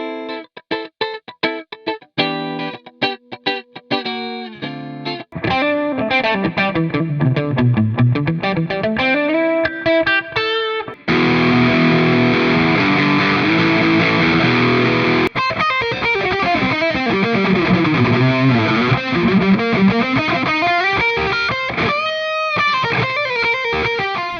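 A distorted electric guitar played through a Swiff Audio WS70 wireless system plays fast riffs and sustained chords, loud and close, with bursts of choppy muting and heavy effects throughout.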